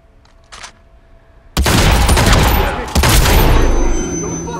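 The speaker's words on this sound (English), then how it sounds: "Gunshot." Gunfire in the video game Hitman Absolution: after brief quiet murmurs, a sudden loud burst of shots erupts with a sharp second blast, sustained booming rattle that decays toward the end.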